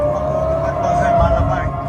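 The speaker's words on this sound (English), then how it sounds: "Sirens fill the night sky over Tel Aviv." Air raid sirens wail across the night sky over Tel Aviv as a loud, steady drone, with a rumbling, busy background beneath the tone.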